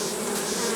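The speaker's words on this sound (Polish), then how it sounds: "O, tu jest na przykład jedna pszczoła z propolisem." Honeybees at a natural beehive, some carrying propolis, make a steady dense buzzing hum, close and continuous throughout.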